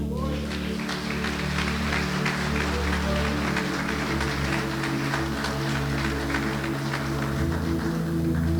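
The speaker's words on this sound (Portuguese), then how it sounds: "Pode aplaudir Jesus" Church congregation applauding during a sermon, a continuous bed of clapping layered over sustained low organ or keyboard tones.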